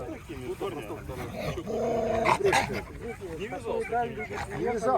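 A dog at a dog show barks and growls in short bursts amid steady talking, with people's voices running throughout and the barking loud and close over them.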